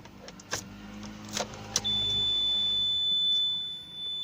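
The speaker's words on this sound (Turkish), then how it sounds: "o öten zaten şirket aracı olduğu için bu araç şuradaki alarm ötüyor" A few short clicks, then a steady high-pitched electronic tone holds for a couple of seconds before fading, heard close with no voices.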